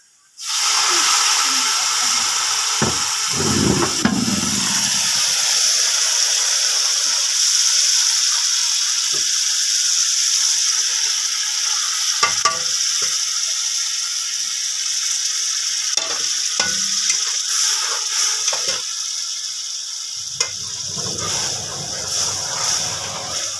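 Onions and masala fry in a pot for potato rice in a village kitchen, a loud continuous sizzle with occasional metallic clinks from stirring.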